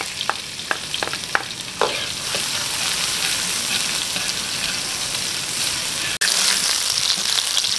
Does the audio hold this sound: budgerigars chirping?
no